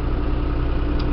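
A 58-horsepower 5320 utility tractor engine idling close by, a steady low rumbling drone with faint clatter.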